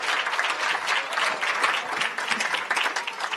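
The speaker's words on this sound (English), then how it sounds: "big round of applause for all of them." Conference audience at a World Environment Day fellows event applauds as the speakers leave the stage, a lively crowd clapping in fluctuating waves with no one talking over it.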